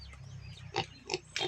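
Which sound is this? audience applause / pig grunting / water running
pig grunting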